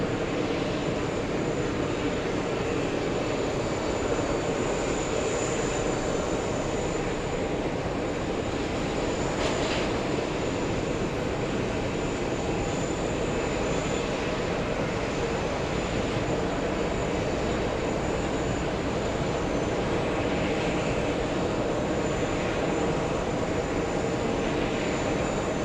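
A JetBlue airliner arrives on runway 22 right at JFK with a steady, loud engine roar and a faint high whine running throughout, and no voices over it.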